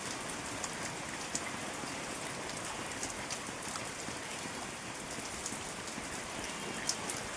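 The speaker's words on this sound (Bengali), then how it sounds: "দেখলে তো কত জোর বৃষ্টি নেমেছে" Heavy rain pours down steadily outdoors, a dense, constant wash of drops drumming on surfaces with no pauses and no voices.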